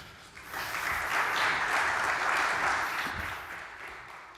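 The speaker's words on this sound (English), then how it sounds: "So give a round of applause for Mona." A conference audience gives a round of applause for a speaker at a blockchain event, clapping swelling within half a second, holding steady, then tapering gently near the end, heard from a slight distance in a large room.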